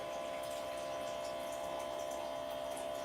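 Water running steadily into a pot for chicken soup, a continuous hissing, splashing flow with a faint tonal hum, close and unbroken throughout with no talking.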